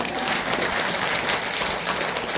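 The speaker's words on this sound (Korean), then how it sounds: "박수 치는 거 봤어요." An audience at a Buddhist temple dharma talk in Sejong applauds steadily, a dense wash of many hands clapping that holds at an even level throughout.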